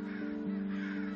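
A crow gives a single drawn-out, nasal caw in the horror game Nevermind. The call is brief and fairly close, with a slight dip in pitch midway.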